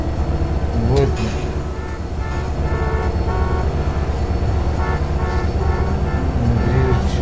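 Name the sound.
freight train passing in the video game GTA San Andreas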